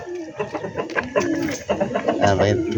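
A brooding hen with a newly hatched chick gives soft clucks and coos close by, mixed with higher chirps, while a person talks quietly alongside.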